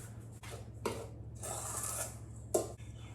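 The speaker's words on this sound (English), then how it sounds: "I'm gonna stir this together first." A spoon scrapes and rubs quietly against a bowl while apple pie filling with cinnamon is stirred, giving a few soft strokes and a sharper clink near the end.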